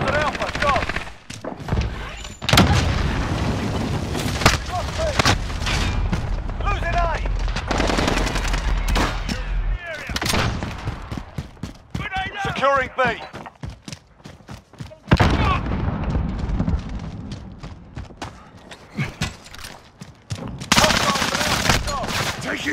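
Heavy gunfire from the Call of Duty Modern Warfare Domination mode, with machine gun bursts, single shots and booms rattling loudly in clusters while game voices shout callouts between volleys.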